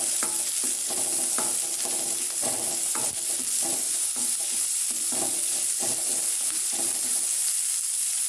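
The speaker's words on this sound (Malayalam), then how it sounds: "അതും ചേർത്ത് നമുക്കൊന്ന് ഇളക്കി കൊടുക്കാം." Chopped beans being stirred in a sizzling frying pan for a kids' lunch box dish, with repeated scraping strokes of the spoon in a steady rhythm over constant frying hiss, close and loud.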